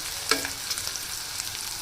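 Ingredients for capsicum curry sizzle faintly in hot oil, a soft steady frying hiss broken by one sharp clink near the start.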